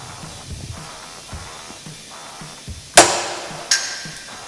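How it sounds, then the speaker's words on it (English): A sharp metallic snap rings out as Stanley side cutters cut through a drill bit, then a second fainter click, after some quiet handling taps. "next up we're gonna do a drill bit with the Stanley"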